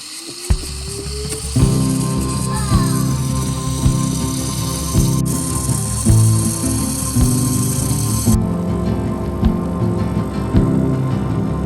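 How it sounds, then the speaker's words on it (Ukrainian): A home coffee machine brews a second cup, running with a loud, steady mechanical hum and pump drone that shifts in tone partway through, close by with no talk. "заварюю собі другу каву"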